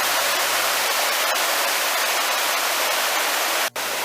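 Stream water rushes through the rocky Cheonghakdong valley on Suraksan mountain in a loud, steady, unbroken hiss with no voices. It pauses only for a split-second dropout near the end.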